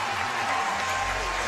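A steady, loud crowd roar rises as Carleen Matthews completes a lift during the women's squat clean pyramid event at the 2016 CrossFit Games, with a voice talking over the noise.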